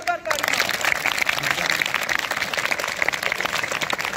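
Audience at an outdoor Punjabi street play clapping for teachers, a dense, steady round of applause with a voice over a loudspeaker at the very start.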